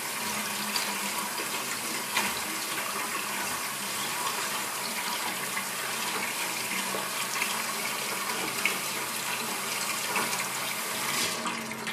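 Water runs steadily from a tap over freshly harvested wheat grains as they are rinsed, a continuous close splashing flow with no one speaking.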